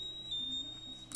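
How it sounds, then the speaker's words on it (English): A GMI VISA gas detector sounds its alarm during a bump test, giving a thin, steady high electronic tone with a brief sharper beep near the end. It is fairly faint, with no speech. "I can hear the alarm going off."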